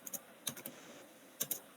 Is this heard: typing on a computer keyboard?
yes